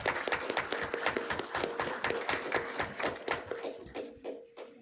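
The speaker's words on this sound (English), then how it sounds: "give them a big round of applause as they come up" Sparse applause at a school board of education meeting, individual hand claps distinct and rhythmic, a modest group clapping at moderate distance and tapering off toward the end.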